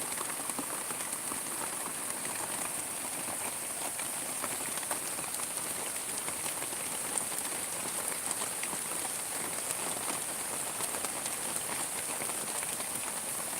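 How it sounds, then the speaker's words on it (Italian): Steady rain falls and patters on surfaces in a constant hiss, moderately loud and even throughout, with no talking. "piove davvero. Non dico proprio forte forte, però abbastanza"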